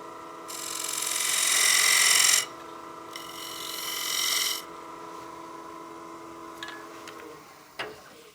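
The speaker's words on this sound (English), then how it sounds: "So I'm going to use the bigger gouge just to get rid of some of that bulk." A large gouge cuts wood spinning on a lathe while making a coin box: two loud rasping bursts of cutting over a steady motor hum, each lasting a second or two, then a few light clicks.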